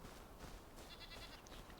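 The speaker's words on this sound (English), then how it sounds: "I think a wolf was chasing a goat over here then." Goat in Enshrouded bleating faintly in a short wavering call amid quiet outdoor game ambience.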